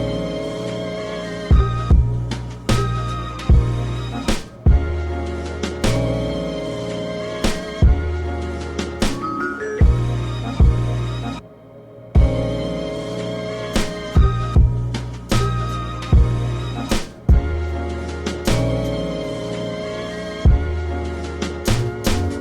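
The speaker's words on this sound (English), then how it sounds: "that pad sound picks up the slack" A hip-hop remix beat in Serato Studio, with punchy kicks and snares over a warm, sustained synth pad and bass, looping steadily and loudly without vocals.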